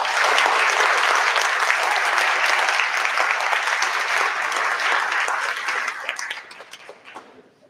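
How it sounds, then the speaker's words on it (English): A ceremony audience claps loudly and evenly for a student speaker at a nursing pinning ceremony, the dense applause tapering off over the final second or two. "please give him a hand of applause"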